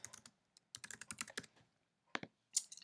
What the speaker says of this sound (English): to add a book, you simply go here and you start typing in a title